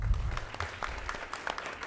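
An audience applauding at a school board meeting: a steady wash of many hands clapping in a room, moderately loud and continuous, with no voices standing out.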